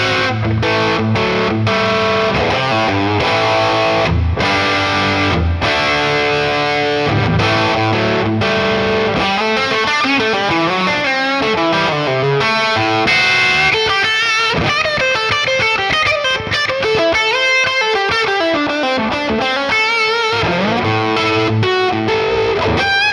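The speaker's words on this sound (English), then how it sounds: "let's pile on some gain and see what he can do. So this is the bridge pickup in series mode." An overdriven electric guitar, a Gibson Custom Les Paul on the bridge pickup in series mode, plays a busy run of distorted riffs and notes, loud and continuous with no talking.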